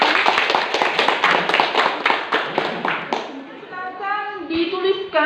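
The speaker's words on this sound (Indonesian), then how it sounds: "Tepuk tangan kita berikan aplaus." Students in a classroom biology lesson clap together, a brisk, close burst of rapid claps for about three seconds that ends abruptly, after which a voice speaks.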